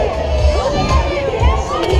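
A dense crowd at the Animal Kingdom theme park fills the air with loud, overlapping chatter and children's shouts. The hubbub stays close and constant throughout the short stretch.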